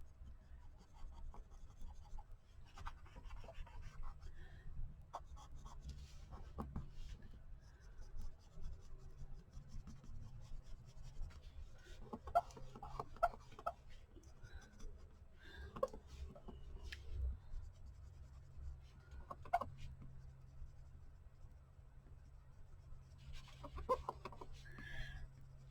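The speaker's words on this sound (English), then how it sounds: "I'm going to use this charcoal pencil and just kind of go around" A charcoal pencil scratches lightly across paper in short strokes and bursts, quiet and close, with faint low background hum and no speech.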